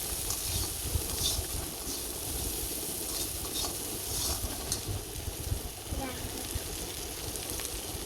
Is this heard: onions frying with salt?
yes